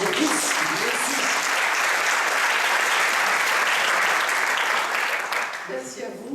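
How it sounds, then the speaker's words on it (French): A room full of people applauds at a round-table gathering of laureates and entrepreneurs, with dense, steady clapping that holds for several seconds and then begins to thin out near the end. "On peut l'applaudir."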